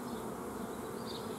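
Honeybees buzzing at a hive during colony formation, a dense, steady drone filling the air without pause.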